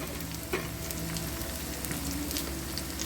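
Curry leaves crackle and sizzle loudly in hot oil over browned grated ginger, frying steadily close by with brief stirring scrapes and no talk.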